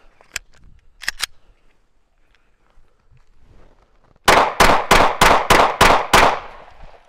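A Glock 19 pistol fires six evenly spaced shots in a quick, loud, near series. Its magazines are swollen with age. A few faint clicks and handling sounds come before the shots.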